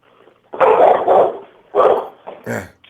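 A dog barks loudly in a few close yips and woofs in quick succession, with a short whimpering tail at the end, heard over a live sports talk show.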